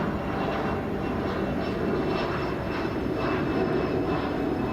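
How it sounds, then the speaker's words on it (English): Airplane passing at Chicago O'Hare International Airport, a broad continuous engine roar that holds steady and loud throughout, with no voices. "just listen to the airplane going by"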